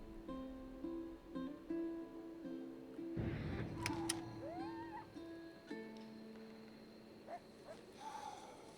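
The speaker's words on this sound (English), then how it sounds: "Here, that's a cat sound, right?" A cat in the video game Red Dead Redemption 2 gives a couple of faint, brief meows amid outdoor game ambience with music-like tones and a louder rustling passage.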